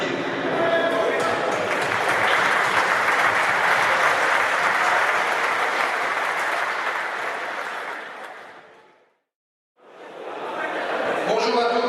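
A crowd applauds the competing teams at the 2015 Open in Chalon-sur-Saône, loud sustained clapping that fades out, breaks off briefly, then resumes.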